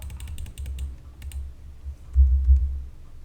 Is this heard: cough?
no